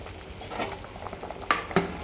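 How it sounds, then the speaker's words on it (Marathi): Egg curry simmers in a pot with soft bubbling and small pops, two sharper clinks standing out near the end. "तर हे उकळी आली आपल्या भाजीला अंडा करीला"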